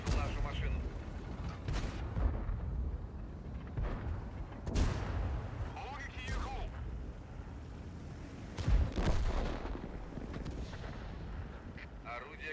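Artillery cannon fire and explosions from a STA-2 tank battle in the World of Tanks video game, repeated heavy booms over a constant rumbling, windy battle bed, with a voice speaking in the mix.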